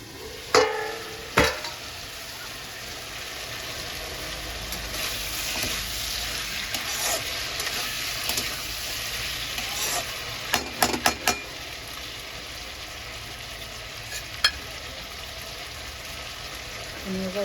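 Chole curry stirred in a pan after the lid comes off, giving a steady low sizzle with a few sharp scrapes and clinks of the spoon against the pan.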